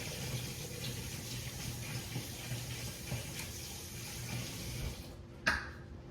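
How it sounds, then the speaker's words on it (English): Water pours steadily from a kitchen tap into a sink, a constant hiss and splash, ending with a brief clunk as the flow stops. "I guess I'll wait till I turn the water off"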